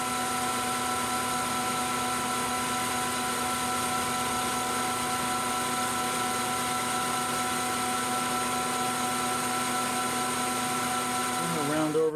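A metal lathe taking a final light cutting pass on 304 stainless steel, a loud steady tonal whine with layered harmonic hum held evenly throughout, shifting slightly at the very end.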